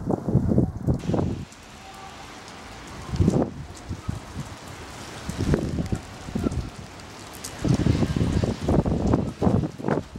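Rain falling outdoors makes a steady, soft hiss, broken by several louder, gusty bursts of rustling and spattering.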